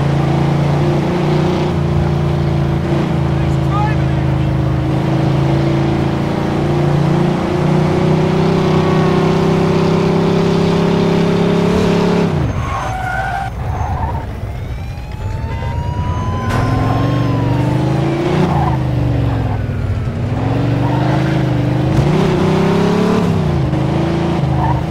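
A speeding car roars through a police pursuit in Mafia II, its engine droning steadily and loud, then dipping and rising again as gears shift, with a tire squeal partway through.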